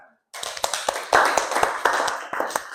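A classroom of students bursts into hand clapping after a brief silence, the claps loud and close, uneven and overlapping with sharp individual slaps standing out over a few seconds.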